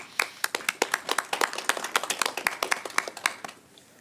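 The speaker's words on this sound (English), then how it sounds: "Clapping's getting very muted." A small group of judges at a photography awards ceremony clap in a thin, muted patter of distinct claps that fades out toward the end.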